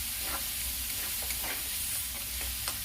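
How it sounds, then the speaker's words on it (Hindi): Ground masala is stirred into frying onions in a pan, a continuous quiet sizzle broken by repeated scraping strokes of a spoon. "इसमें मैं जो मसाला पीस के रखी हूँ वो डालूंगी और इसे अच्छी तरह मिला देती हूँ"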